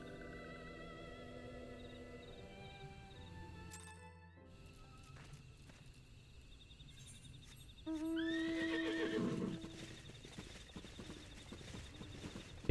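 Horse whinny and clip-clopping hooves from a mount in the video game Final Fantasy XIV, a loud neigh standing out over game ambience and music, with no talk.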